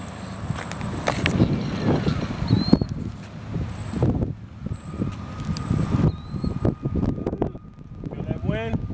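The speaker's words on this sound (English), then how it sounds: "Feel that wind?" Gusty wind buffeting the microphone at an RC model airfield, a steady low rumble throughout, with people talking over it.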